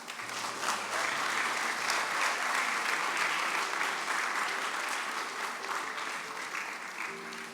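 An audience at the St. Vincent Grammar School graduation applauds, a sustained dense wave of clapping from many hands that holds loud and steady, then starts to taper near the end.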